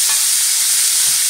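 Fresh mushrooms pan-fry in a skillet with a loud, dense, continuous sizzle heard up close, brief and unbroken, with no speech.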